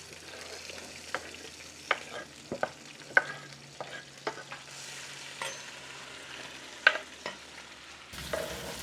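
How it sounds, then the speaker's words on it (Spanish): Vegetables for frijoles charros browning in a hot pan, a steady low sizzle broken by scattered sharp scrapes and clicks of stirring, close and fairly quiet, with no talk. "Por último voy a dorar ya la verdura"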